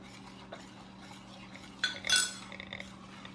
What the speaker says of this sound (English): I'm going to go ahead and stir in some pepper.